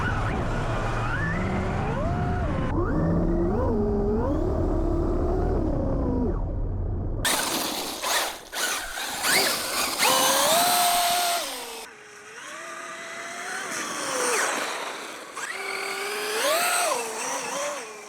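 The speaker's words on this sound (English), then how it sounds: "It just loves the power slide." A Traxxas UDR radio-controlled truck power-sliding on wet ground where snow is melting: a close electric motor whine that repeatedly climbs and drops in pitch through several abrupt cuts, with no talking.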